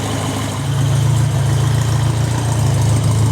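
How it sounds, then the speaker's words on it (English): A Formula Ford Royale RP30 race car engine idling up close, a loud, steady, even rumble with a low throb that rises slightly in level after the first half second and then holds smooth and regular. "the engine is running very smooth and regular"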